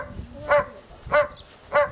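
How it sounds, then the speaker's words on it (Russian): A dog named as a champion barks three times at a steady, spaced rhythm, each bark clear and fairly close, with light background noise between them. "А это лает-то кто?"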